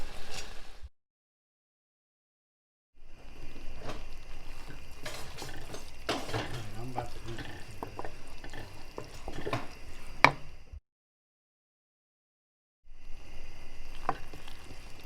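Rabbit pieces and roux browning in a pot for rabbit sauce piquante, soft sizzling with stirring scrapes and clinks of utensil against the pot, in bursts separated by silent gaps.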